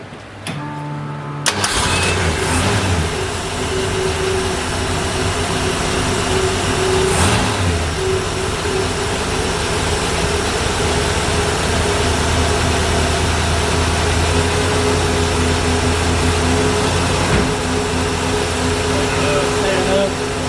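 A car engine fitted with a race carburetor cranks briefly, then catches and runs with a loud, steady, close roar that holds for the rest of the clip, with voices faintly beneath.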